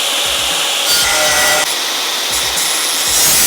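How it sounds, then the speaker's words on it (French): A power tool cuts through a steel crossmember on a Toyota Land Cruiser KZJ/KDJ 90/95 during a winch installation, making a loud, continuous, harsh grinding whine that runs steadily for the whole stretch with no talking. "je vais aller tronçonner bien sûr ma traverse ici"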